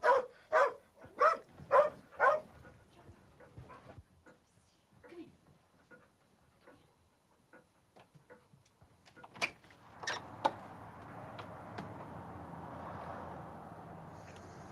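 A Labrador guard dog at a house at night gives a rapid series of loud close barks, then quieter scattered sounds, shuffling and a door.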